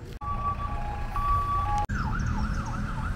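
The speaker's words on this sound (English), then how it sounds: "Ambulance just tried to roll through here, man." An ambulance siren wails loud and close in the narrow streets of a German-settled village in Argentina, switching from a steady two-tone call to a rapid warbling yelp over the rumble of its engine.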